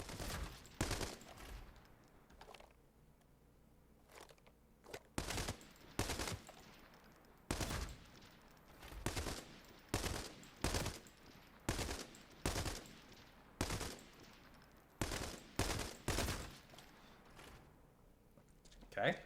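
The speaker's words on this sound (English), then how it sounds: "we have the M96. Now this is a 4-round burst" An M96 burst-fire rifle in Arena Breakout Infinite fires repeated short, sharp bursts at fairly regular intervals, each crack loud and close against a quiet background.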